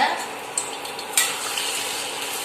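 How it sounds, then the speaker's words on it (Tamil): A bird nest snack frying in hot oil, a steady close sizzle with a couple of sharp metal utensil clinks against the pan. "இப்போ இதை எண்ணெயில் போட்டு பொரிச்சு எடுத்துக்கலாங்க."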